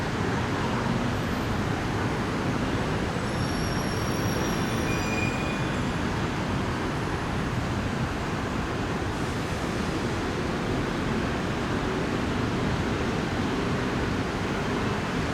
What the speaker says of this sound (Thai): ขบวนต่อไปเป็นรถเร็ว 134นะฮะ มาจากเมียงจันทร์ ได้หัวรถจัก QSY เช่นเดียวกัน